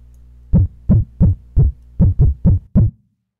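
Seven deep, punchy synthesized distorted 808 kick drum hits with short clicky attacks, spaced in an uneven rhythm, then silence.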